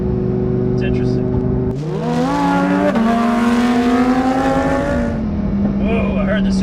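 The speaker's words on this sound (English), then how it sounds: "I heard the supercharger there." A supercharged Lamborghini accelerates hard from inside the car, its engine note climbing with a rising whine layered over the roar, easing off toward the end; people talk during the run.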